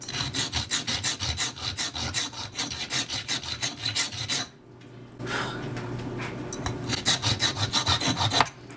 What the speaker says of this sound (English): And now we're going to sand it.